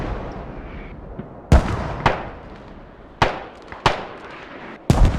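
Sharp artillery or mortar blasts in a Squad match on the Kohat map, several separate booming impacts spaced irregularly over a low rumbling background, some close and loud, others more distant.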